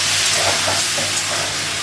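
A splash of water hits a hot pan and hisses loudly, a close, steady burst of steam that fills the whole moment without any talking.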